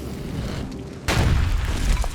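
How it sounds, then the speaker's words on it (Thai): A homemade gun, overheated beside a fire, bursts in a sudden loud explosion partway through, its heavy low rumble swelling and lingering after a quieter stretch of background tone. "เสียงระเบิดดังสนั่นหวั่นไหว ปืนที่ผิงไฟร้อนจัดระเบิดใส่หน้าชัยอย่างจัง"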